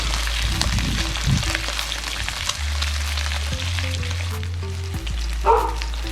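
A ribeye steak sears in a cast iron pan, giving a steady sizzle near the microphone. A low hum sits underneath, and brief tonal beeps and clinks come through toward the end. No voices are heard.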